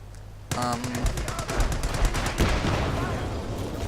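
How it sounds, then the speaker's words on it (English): Artillery barrage in the video game Company of Heroes 2, a loud clattering string of rapid shots and booming impacts that begins suddenly and rumbles on without pause, with game voice chatter buried in the mix. "Artillery barrage ready to fire."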